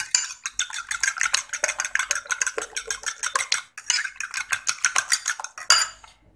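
Omelette ingredients with salt and black pepper are whisked in a bowl with a fork, producing a fast, even run of close metallic clicks and taps against the bowl, alone without any voices.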